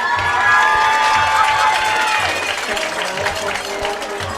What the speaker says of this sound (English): Please give a round of applause for homecoming court member Shaylee Pope